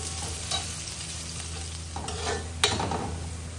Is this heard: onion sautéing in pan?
yes